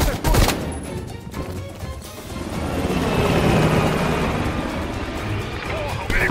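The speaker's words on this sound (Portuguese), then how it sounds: "o helicóptero escapou!" A helicopter in the video game Call of Duty: Black Ops Cold War roars as it pulls away. A steady, loud rotor-and-engine wash fills the scene, with sharp gunfire-like cracks near the start.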